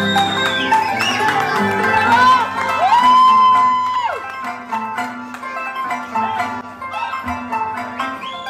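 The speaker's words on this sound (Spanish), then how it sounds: "Se emociona cuando le aplauden." An audience cheers, whoops and shouts for a mariachi harpist, loud and lively at first with a sustained high call, then settling into scattered cheers and chatter.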